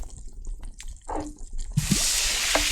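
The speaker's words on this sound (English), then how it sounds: "Pour the red wine." Red wine poured into a pan in the cooking game Cucina Stellata: a few soft drips and splashes, then a steady bright liquid pour that runs on to the end, close and moderately loud.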